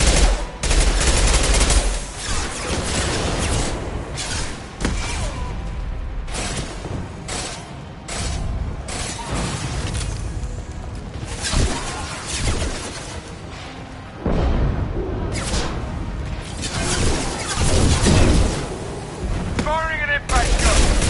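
An impact gun firing in Mass Effect 2, a dense barrage of booming, blasting shots that blend into loud, continuous combat noise, with a voice speaking over the fire.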